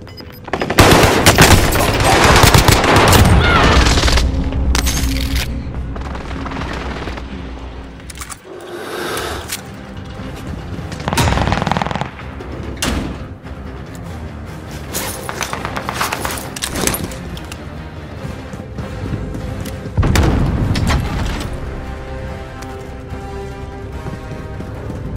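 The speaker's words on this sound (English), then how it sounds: "Enemy precision airstrike." Call of Duty Warzone gameplay on Rebirth Island fills with loud rapid gunfire and booming blasts from an enemy precision airstrike, dense bursts and explosions crowding together up close.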